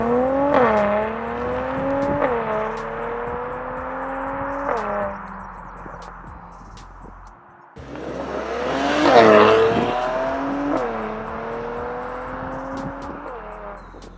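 A 2019 Mercedes-AMG C43 V6 with AMG Performance exhaust doing launch starts, engine rising in pitch through quick upshifts, then a second louder launch with tire squeal, fairly close and without talk.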